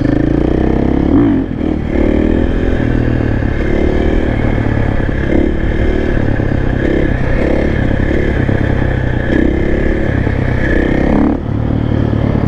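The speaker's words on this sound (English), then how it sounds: "Just a little wheelie practice while he breaks his bike in today." A new supermoto motorcycle's engine drones loud and close, rising and falling in revs throughout as the bike is ridden through wheelie practice during break-in, with some rattling clatter mixed in.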